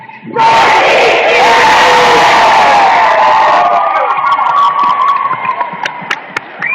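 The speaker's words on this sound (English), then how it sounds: "As loud as you can, yell, Sensi Spirit." A group of students yells together loudly in unison on cue, a sustained roaring shout lasting a few seconds before breaking up into scattered trailing voices and laughter.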